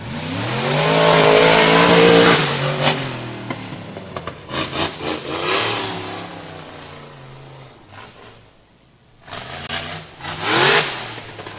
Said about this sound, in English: with that supercharged engine down there